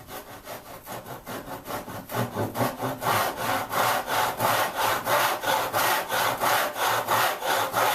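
A back saw cuts through wood for a dado joint in steady, rhythmic strokes, each push and pull rasping loudly and close, growing stronger after the first couple of seconds and continuing evenly to the end.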